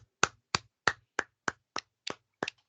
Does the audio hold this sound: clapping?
yes